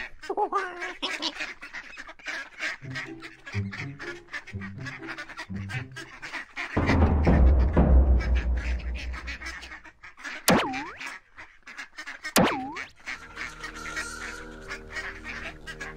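Ducks honk and quack in short repeated calls, with a deeper rumble and a couple of rising whistles partway through.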